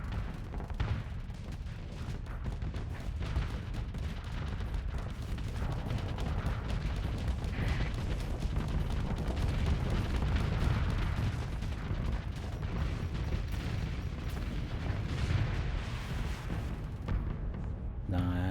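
Starsector space combat with salamander missiles and weapons fire on auto fire: a dense, continuous rumble of booms and rapid shots without letup, steady and loud throughout.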